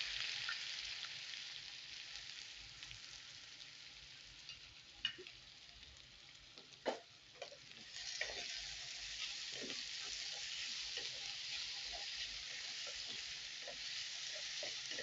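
Onion fries with cumin and curry leaves in a pan, giving a soft, steady sizzle throughout, broken by occasional scraping clicks as it is stirred, with no talking.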